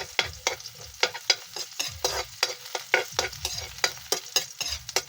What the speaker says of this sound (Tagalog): So, sibuyas na lang itong gisa natin mga kapat.